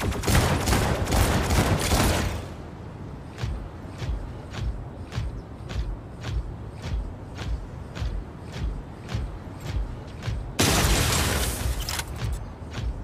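Weapon fire erupts in the mobile mech game Mech Arena: a heavy, loud volley opens, then a steady train of sharp, evenly spaced shots or thuds continues before another dense burst hits near the end.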